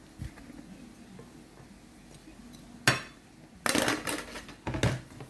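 Sweet Ryukyu fish salad being plated onto a dish: a few sharp clinks and scrapes of utensils against the plate, one after a quiet stretch, then clustered knocks and clatter close by.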